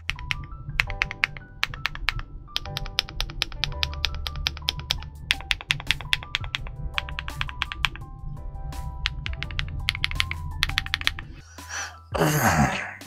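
A KiiBOOM Loop65 65% mechanical keyboard is typed on quickly and continuously with crisp, close key clacks, followed by a short rustling bump at the end.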